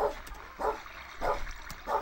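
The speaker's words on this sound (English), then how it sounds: "my dog is barking in the background like a like a crazy psychopath" A dog barks four times in short, evenly spaced bursts, fairly close and loud against a quiet indoor background.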